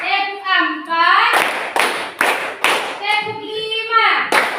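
A class of students claps a rhythmic counted clapping pattern in a classroom, several sharp group claps in quick bursts between a teacher's voice calling the count.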